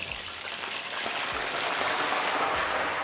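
Potato chunks frying in hot oil over high heat for a crispy Sindhi aloo dish, a steady loud bubbling and hissing sizzle that holds throughout without talk.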